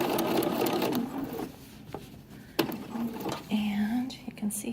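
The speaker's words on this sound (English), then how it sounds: "I'm just going to stitch it carefully and try my best not to stretch or" A sewing machine stitches a narrow hem on satin, heard as a close, rapid mechanical chatter in short runs separated by pauses, with faint soft sounds in between.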